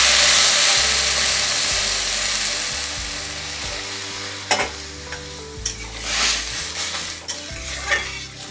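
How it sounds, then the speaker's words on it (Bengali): Fried lentils in a pan for navaratna daal, with water poured in, give a loud steady sizzle and hiss that slowly fades, followed by a few sharp stirring scrapes and clinks near the end. "এবার আমি জল দিয়ে দেবো এর মধ্যে পরিমাণ মতন, যাতে সেদ্ধ হয়ে যায়"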